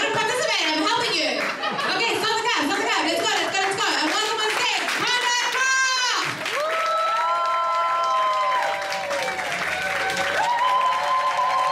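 Applause and chuckles from a comedy club audience at a Cape Town comedy night, loud and sustained for the whole stretch, with voices and tonal sounds running over the clapping.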